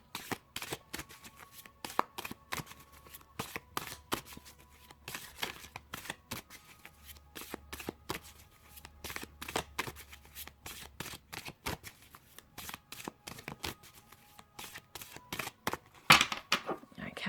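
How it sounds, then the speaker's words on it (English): Sacred Circle Tarot deck shuffled steadily for a long stretch, a continuous train of close, crisp card slaps and riffles with a faint low hum beneath, no voice over it. "So we've got the Sacred Circle Tarot. I'm just going to shuffle on these"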